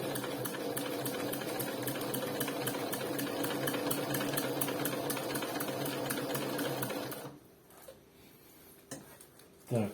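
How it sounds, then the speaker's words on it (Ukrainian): Industrial bag-closing sewing machine stitching big bulk bags on a table, a fast steady mechanical chatter with rapid rhythmic ticking that stops near the end, followed by quieter handling noises. "Це все робиться, шиється бігбеги на столі."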